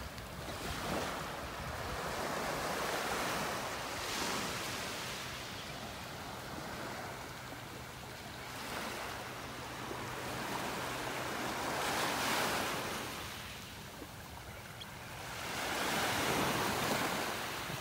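Ocean waves wash onto a beach in North Naples, Florida, in slow repeating surges that build and fade every few seconds, with a constant wash of surf and wind noise and no voices.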